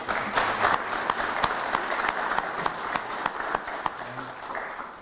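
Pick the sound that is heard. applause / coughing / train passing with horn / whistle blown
applause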